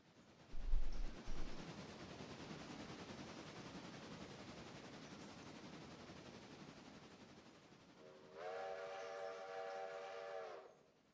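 A passenger train in the railroad simulation game Railroader rumbles steadily with a faint rolling noise, then a clear steam-style whistle blows for about two seconds near the end.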